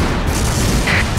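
A grenade goes off in the arcade shooter Time Crisis 4, a single loud, dense boom that fills the whole short moment with no pause.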